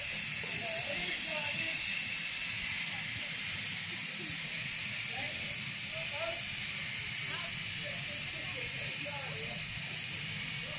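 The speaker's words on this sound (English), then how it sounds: "that's the other steam train." A 100-year-old steam train hisses steam in a loud, continuous broad hiss that never lets up, with faint chirping and clanking underneath throughout.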